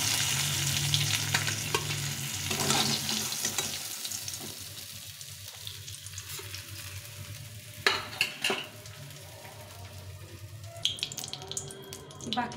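Pabda fish fry in hot oil close by with steady sizzling and crackling, broken by occasional stirring and clatter of a utensil against the pan.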